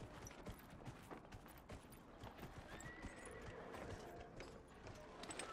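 Clip-clopping horse hooves with a clear whinny from a mount in the Dragon Age fantasy video game, steady hoofbeats running throughout at moderate loudness with some game ambience underneath.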